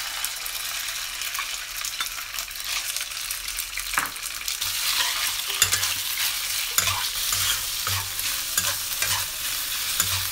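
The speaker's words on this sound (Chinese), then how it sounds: "先下油煸炒肉丝" Shredded pork stir-frying in oil in a wok, a steady loud sizzle with continual scraping and clinking of a spatula against the metal as it is tossed.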